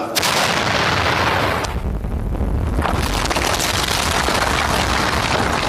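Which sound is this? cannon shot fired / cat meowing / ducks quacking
cannon shot fired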